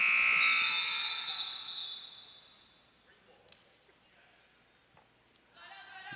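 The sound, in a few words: 30-second shot clock buzzer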